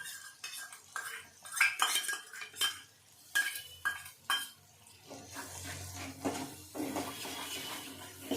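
Potato and pea curry spice paste frying in a pan while being stirred, with repeated metal scrapes and clinks of a spoon against the pan over a soft background sizzle.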